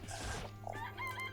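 A chicken clucks and calls briefly in the video game Danganronpa, a few short nasal squawks over a low background hum, with no talking.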